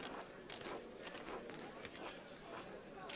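Pennies drop one after another onto a card table as the ante in the video game Pentiment, giving light metallic clinks spread over a few seconds, fairly quiet.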